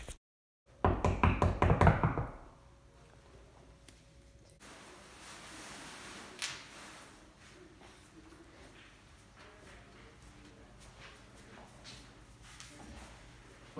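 A fast, heavy run of knocks on a door, louder than before, fills the first seconds of a staged English-class drama scene, then fades to quiet room tone with one faint thump later.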